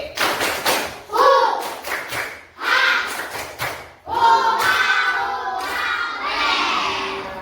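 A group of elementary-level students performs a rhythmic spirit clap in a classroom, with loud synchronized bursts of clapping and shouted chanting in sharp patterned phrases, ending in a sustained group cheer.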